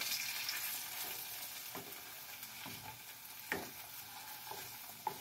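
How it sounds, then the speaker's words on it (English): Steady crackling sizzle of cheese frying in a pan, with occasional scrapes and light clicks of stirring, fairly close and quiet. "When you're frying your cheese, tend to move it around a little bit because it will get stuck."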